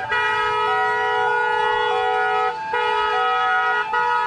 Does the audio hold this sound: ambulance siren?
yes